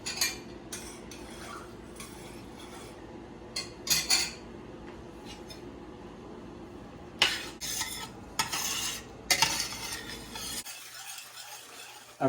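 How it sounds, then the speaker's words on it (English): Celery and peppers saute in melted butter over medium heat, a soft steady sizzle broken by repeated spoon scrapes and clinks against the pan, ending in quiet. "so that we can actually saute the celery and peppers"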